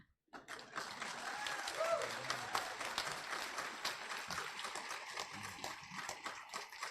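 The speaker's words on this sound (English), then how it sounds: "greet them now with thunderous applause" Steady crowd applause at a high school graduation ceremony, a dense patter of many hands clapping that swells in after a moment of quiet and continues throughout, somewhat distant.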